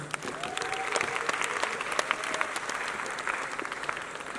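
An audience at a film festival awards ceremony in a grand theatre applauds an actress, a sustained crowd clapping with scattered sharper claps, a brief whistle-like tone and faint voices underneath.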